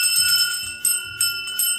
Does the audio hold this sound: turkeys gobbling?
no